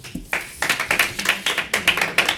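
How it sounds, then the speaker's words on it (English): Clapping from an audience at a city council meeting comes in quick, rhythmic bursts, close and fairly loud, with a few hands beating roughly together for a couple of seconds. "No clapping, please."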